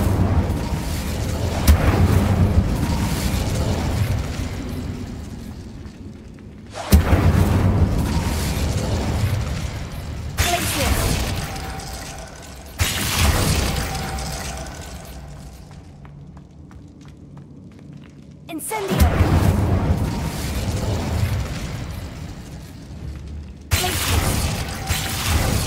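Incendio fire spells cast in a wizarding video game, a series of loud booming blasts each followed by a roaring, crackling burst of flame that fades away, several times over about twenty-five seconds.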